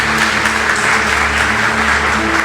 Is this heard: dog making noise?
no